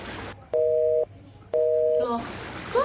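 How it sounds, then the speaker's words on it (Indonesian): A phone call failing to connect where there is no signal: two steady electronic beeps of about half a second each, separated by silence, followed by a brief fragment of speech. "Kak Windy coba telepon dulu deh"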